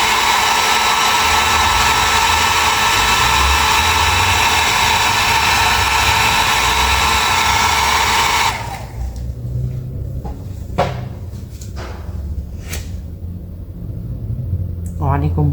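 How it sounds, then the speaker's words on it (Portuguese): A hair dryer blows steadily on a craft flower made of delicate material, a loud continuous airy roar that cuts off abruptly partway through, leaving quieter room sounds and a few faint clicks. "agora eu vou secar com o secador, cuidando para não voar as outras flores"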